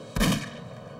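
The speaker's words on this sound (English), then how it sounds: "stirred awake by the gunshots" A single sharp shot from a .22 caliber rifle fired indoors during a home break-in, one loud abrupt crack with a short rumbling tail fading into quiet.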